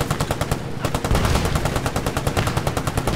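Rapid gunfire from a weapon fired from the commander position in the WWII shooter Post Scriptum, heard as a fast, steady stream of loud, close shots that keeps going without a break.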